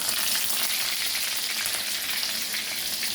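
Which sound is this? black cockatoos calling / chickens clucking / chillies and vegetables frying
chillies and vegetables frying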